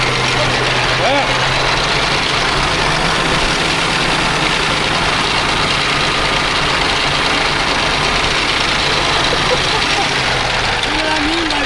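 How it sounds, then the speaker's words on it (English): Wild, rough-sounding truck engine idling loud and close with a harsh, rattling rumble, as if coming apart, steady throughout with people talking over it. "It's a wild sounding engine."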